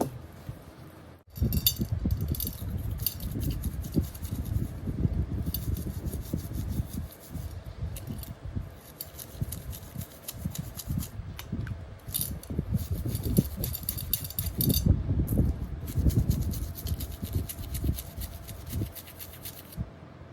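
A tarnished stainless steel Gucci bracelet is rubbed and polished by hand, with close, continuous scrubbing strokes in an uneven back-and-forth rhythm and occasional light metallic clinks, no voices.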